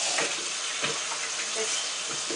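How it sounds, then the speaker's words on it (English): Tap water running steadily into a salad spinner full of lettuce leaves, a close, even hiss with some splashing and slight changes in pitch, under quiet speech. "just fill this baby up with water"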